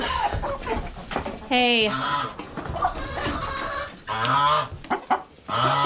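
A bullied, bloodied rooster and other fowl cluck and squawk loudly in a few sharp harmonic calls at a campfire homestead, while a voice speaks over them.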